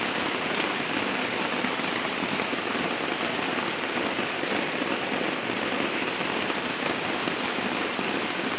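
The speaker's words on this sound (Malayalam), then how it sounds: "കുഴപ്പമില്ല മഴ പെയ്യട്ടെ" Steady, even rain pattering on a surface, a continuous dense hiss with no voices.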